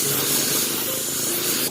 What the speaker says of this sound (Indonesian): Semprotkan 2 lapis tipis-tipis.